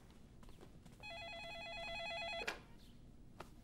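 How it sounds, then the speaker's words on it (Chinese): A telephone rings indoors with a warbling electronic trill lasting about a second and a half, faint and alone, with a few soft knocks and rustles around it. "我去接个电话。"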